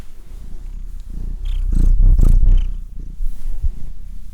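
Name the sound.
cat purring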